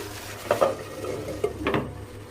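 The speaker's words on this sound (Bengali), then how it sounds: "এইদিকে ঢেঁড়স ভেন্ডিটা ভাজতে দিয়েছি" Okra frying in a pan while being stirred, with a few sharp spatula clanks and scrapes against the pan over a faint steady sizzle, close by and with no talking.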